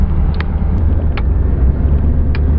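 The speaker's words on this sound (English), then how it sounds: "I'm driving my big Cadillac Brougham today." A 1991 Cadillac Brougham cruises along, its interior filled with a loud, steady low rumble of engine and road noise, broken by a few faint ticks, with no talking.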